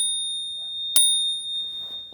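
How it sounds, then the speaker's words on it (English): A compact Spur Cycle bicycle bell rings close up: two sustained, pure metallic tones hold, then a single struck ding cuts in sharply and its bright ring slowly fades. "His suggestion was this equally well made but smaller and more compact Spur cycle bell. It also has a great ding"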